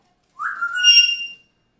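A single short, clear parrot whistle rising then holding a bright high tone, alone against silence.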